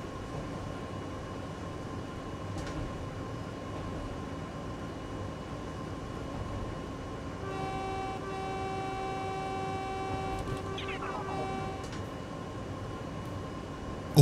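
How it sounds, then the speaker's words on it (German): A car horn sounds in a steady tone for a few seconds over a low, constant engine and traffic hum, from the Japanese train simulator game Japanese Rail Sim: Journey to Kyoto. "Ich kriege Strafpunkte, wenn ich zu viel hupe."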